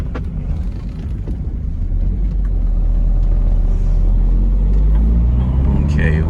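A 2001 Toyota MR2 fitted with an MWR intake revving in a parking lot, a loud low engine rumble building steadily from inside the car, with an intake whoosh rising near the end.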